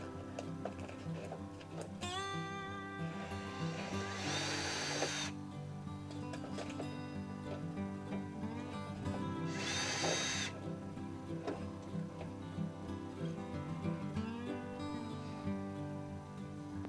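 A power drill whirs in two short bursts, backing bolts out of a speaker mount in the door of a 2004 Chevy Silverado 1500, with metallic clicks and handling noise in between, close and fairly clear.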